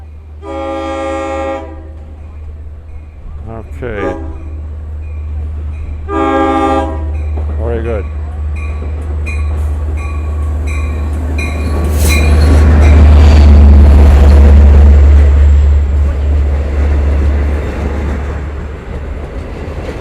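A Long Island Rail Road commuter train rumbles past up close at Speonk, sounding two long horn blasts early on, then heavy wheel and engine noise swells loudly before easing.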